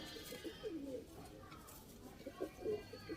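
Teddy pigeons cooing softly in a few low, rounded bursts, close to the microphone, with faint background noise and someone talking at times.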